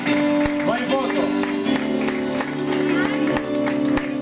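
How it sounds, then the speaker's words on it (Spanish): A church congregation gives a loud round of applause at the close of a Spanish-language sermon, with steady clapping and crowd noise throughout and voices talking over it. "Dale un fuerte aplauso."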